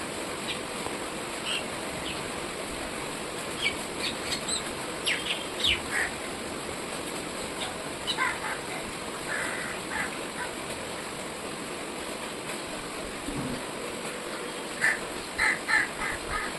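Morning birds calling from a nearby forest, scattered short chirps and calls at varying distances over a steady background hiss.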